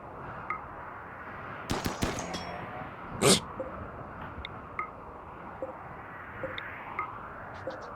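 Turrets fire in the RimWorld video game with a few sharp gunshot cracks around the middle of the clip, followed by scattered faint pops and clicks over a quiet background.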